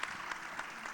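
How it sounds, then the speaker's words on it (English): Audience at a public lecture and awards event for the jubilee of free universal primary education applauding, a brief, dense patter of many hands at moderate distance. "I beg for everyone to give Daily Independence a round sound of applause."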